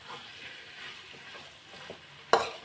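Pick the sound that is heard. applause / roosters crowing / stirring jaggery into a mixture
stirring jaggery into a mixture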